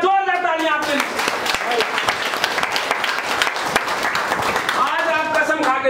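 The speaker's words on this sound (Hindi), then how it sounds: "एक बार जोर दे ताली आपके लिए।" An audience at a leaders' training session bursts into loud, sustained applause, many hands clapping close and dense, while a voice carries over the clapping at the start and again near the end.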